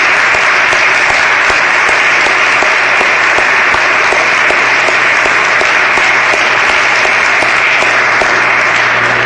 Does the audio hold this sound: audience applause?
yes